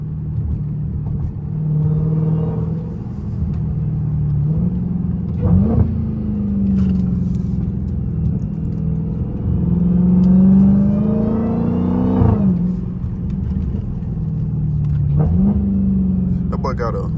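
A straight-piped Dodge Hellcat Redeye rumbles loudly at close range, its exhaust swelling and easing with occasional sharp pops, while someone talks over it.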